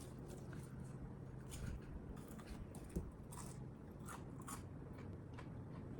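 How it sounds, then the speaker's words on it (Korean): Beef jerky and dried squid being chewed close up, with soft, irregular crunchy bites and one sharper snap over a faint, steady background hiss. Nobody speaks. "이렇게 계속 씹히는 거는 육포랑 오징어 포예요."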